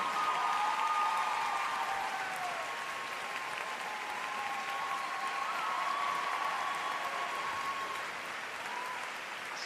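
A figure skating arena crowd applauds after an ice dance rhythm dance at the Grand Prix de France, a sustained, even roar of clapping. Faint voices sit beneath it, and it eases slightly toward the end.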